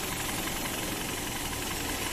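A 2017 Kia Cerato engine idles with a constant, smooth hum and a faint hiss, even and unbroken throughout with no voices.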